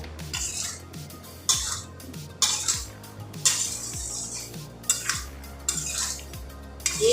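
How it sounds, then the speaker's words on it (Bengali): A utensil stirs spices in a cooking pan for a potato and cauliflower curry with lentil dumplings, with repeated scraping strokes and metallic clinks against the pan at a steady, roughly once-per-second rhythm. "মিশিয়ে দিচ্ছি আমি মশলাগুলোকে"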